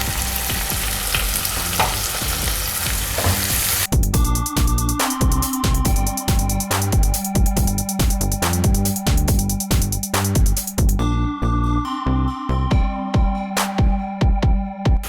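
Onions sautéing in a pan with salt and turmeric, a loud close sizzle that turns into rhythmic scraping and stirring strokes, no talking.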